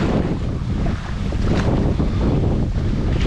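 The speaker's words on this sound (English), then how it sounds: "The wind certainly isn't getting any better." Strong wind blows across a lake and buffets the microphone in a continuous loud roar, with gusts rising and falling throughout.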